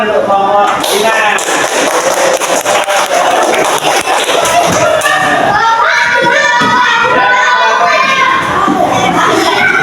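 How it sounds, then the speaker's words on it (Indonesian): A class of children claps and cheers for a group named Ina in a school lesson on prayer, with scattered hand claps at close range mixed with excited children's voices and a teacher speaking throughout. "tepuk tangan untuk kelompok Ina"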